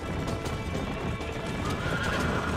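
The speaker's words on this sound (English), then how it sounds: "ruining the stamina of the horse" Horse galloping in the video game Red Dead Redemption, racing: dense, continuous hoofbeats close up with a loud steady wash of noise, no pauses, no talk.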